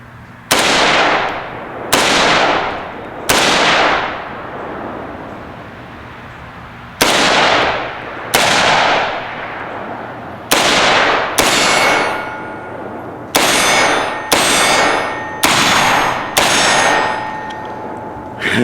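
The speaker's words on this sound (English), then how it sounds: "we're going to just run a few rounds and single fire, figure out how to hold this damn thing" Apache Armaments .223/5.56 pistol upper firing single shots outdoors, a dozen loud sharp reports with ringing decay, spaced irregularly at first and then coming faster toward the end.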